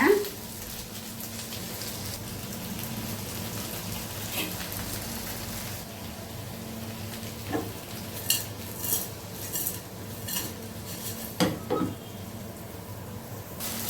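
Chopped tomatoes frying in a pan for a village-style coriander mint chutney, with a steady soft sizzle and scattered scraping clinks of a spoon stirring against the pan.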